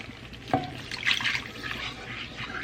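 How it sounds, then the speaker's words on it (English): Water poured gradually into a hot cooking pan while smothered cube steak gravy cooks, a sudden splash followed by a soft sizzling, bubbling wash, close and moderately quiet with no talking. "And you gradually put more water in it."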